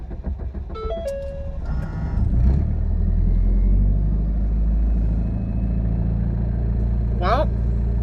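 Car engine struggling to turn over and rev in freezing cold, a steady low rumble running throughout with a brief faint squeal near the end.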